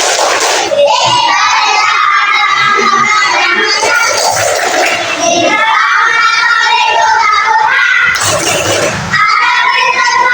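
Children chant and clap together in a classroom doing the tepuk toleransi routine, a loud, busy mix of young voices shouting in rhythm with bursts of hand claps throughout.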